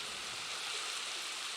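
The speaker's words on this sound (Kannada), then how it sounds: "ಏನು ಮಾಡಬೇಕು ಅಂತ ಗೊತ್ತಾಗಲ್ಲ ಮಳೆನ" Steady hiss of rain falling in the desert, an even wash of noise with no voices over it.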